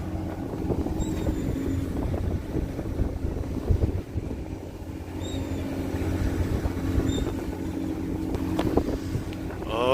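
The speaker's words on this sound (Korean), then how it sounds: "바람 바람 바람 많네" Strong wind buffeting the microphone on a fishing boat at sea off Tongyeong in winter, with a constant rumbling roar and engine hum and some gusty swells.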